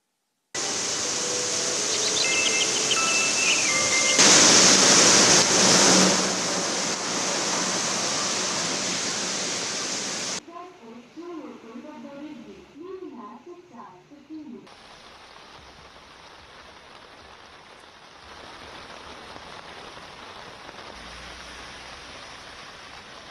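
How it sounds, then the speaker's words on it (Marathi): Heavy monsoon rain falls in Mumbai as a dense, loud, steady hiss for about ten seconds. It drops to a quieter wash where a voice briefly speaks, then continues as a softer, even patter. "मुंबई आणि उपनगरामध्ये जोरदार पाऊस पडतोय।"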